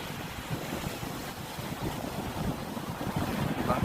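Continuous wash of waves churning and breaking near a boat dock at low tide, mixed with gusty strong wind noise, steady and fairly loud throughout.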